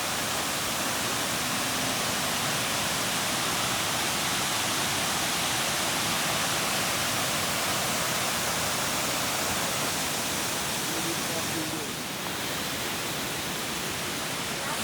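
Kuang Si waterfall in Luang Prabang, Laos, a steady, dense roar of rushing water cascading over its ledges, loud and unbroken throughout with no clear voices above it.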